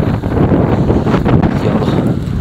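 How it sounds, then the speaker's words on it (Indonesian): Strong wind buffets the microphone on an exposed mountain ridge of Mount Telomoyo with steep drops on both sides, a loud, continuous roar that swells and gusts throughout with no pauses. "Anginnya kencang banget."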